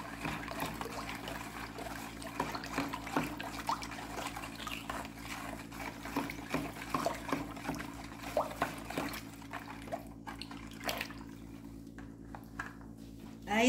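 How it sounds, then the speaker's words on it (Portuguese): Half a tablespoon of baking soda and some table salt are stirred into water to make a homemade soap thickener, giving a soft, steady trickle and swirl of liquid with light clinks close by. "Agora vou misturar tudo na água."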